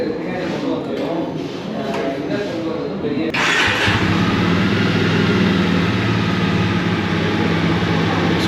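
A Jawa 42 Bobber motorcycle engine cranks and then catches, settling into a steady, close, throbbing idle that runs to the end, following a stretch of background noise at the start.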